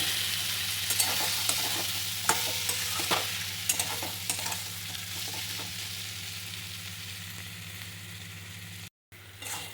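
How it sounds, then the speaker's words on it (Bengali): Snails and fried potatoes stir-frying in a wok over a low flame, with a low steady sizzle and occasional sharp scraping knocks of the spatula, fading slightly toward the end. "আমি ওটা দিয়ে দিলাম কড়াইতে এবার খুব ভালো করে লো ফ্লেমে কষিয়ে নেব"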